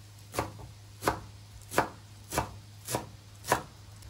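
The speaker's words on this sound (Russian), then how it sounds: "Нарезаем зелень." Six evenly spaced knife chops on a cutting board, crisp and close, cutting through fresh parsley, cilantro and dill with quiet pauses between strokes.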